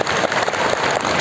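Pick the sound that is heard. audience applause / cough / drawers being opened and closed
audience applause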